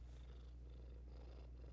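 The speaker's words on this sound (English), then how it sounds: "Wow, loud purr." Deep, continuous purring from a cat, close and steady with a low rumbling pulse, with no talking over it.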